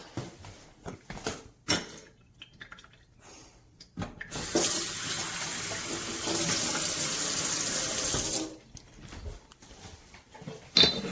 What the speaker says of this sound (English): it also drains a little bit, cleans the spouts, just a little rinse.